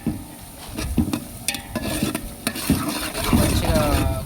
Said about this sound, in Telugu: మంచిగా గోల్డిష్ కలర్ వచ్చేటట్టు వేయించుకోవాలి ఫ్రెండ్స్.